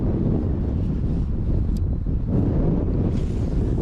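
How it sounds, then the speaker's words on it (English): Wind gusts roar steadily across the water during kayak fishing off Wavebreak Island on the Gold Coast, buffeting the microphone in a continuous loud rush. "Here comes the wind again."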